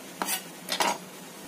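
Minced garlic and shallots stirred together in a bowl for a home-cooked dish, giving two short scraping clinks of a utensil against the bowl, close and fairly quiet, with no voices.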